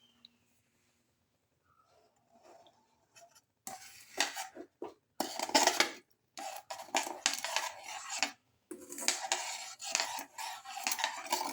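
Semolina mixture stirred and sauteed in a pan, a utensil scraping and clinking against the metal in irregular bursts that start faint and grow louder, close up with no speech.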